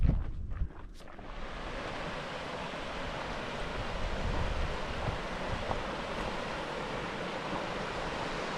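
Siyeh Creek in Glacier National Park rushes steadily, a dense broadband roar of flowing water heard close up, unbroken from start to finish.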